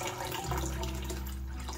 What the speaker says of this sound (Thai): พี่เทน้ำเพิ่มเพื่อจะเพิ่มความสูงของน้ำเนาะ